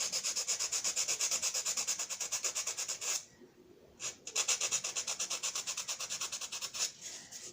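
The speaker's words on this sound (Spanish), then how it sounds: "Con el filo de la lija," A high-relief modelling piece is marked by rubbing it with the edge of sandpaper, giving steady, rapid back-and-forth scratchy strokes up close. The strokes pause for about a second midway, then resume at the same brisk rhythm.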